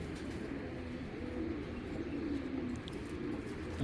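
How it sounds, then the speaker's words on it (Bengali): Soft, low cooing from a female silver pigeon in a quiet room, faint and continuous, with no voices. "এই যে একটা সিলভার মাদি মাদি কবুতর"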